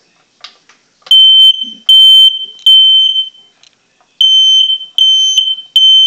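Smoke alarm going off during a weekly test, piercing high-pitched beeps in loud repeated bursts with short gaps between them, close and dominant.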